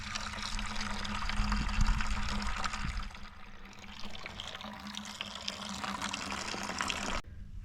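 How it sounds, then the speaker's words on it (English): Water pouring from a hose into a 5-gallon pail, a steady rushing fill that runs continuously and cuts off abruptly near the end. "I'm going to go ahead, fill up this 5-gallon pail"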